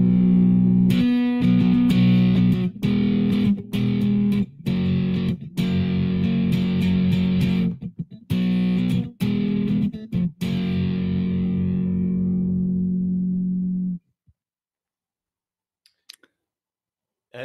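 An electric Kite guitar plays two strings at a time with full distortion, sounding thick, sustained chords in a choppy stop-start rhythm of bursts and cut-offs, then a long held chord that fades to silence, with a few clicks after.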